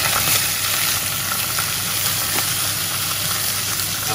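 Chicken pieces brown with ginger in a hot pan, giving a continuous loud sizzle and hiss close by, steady throughout with no pauses.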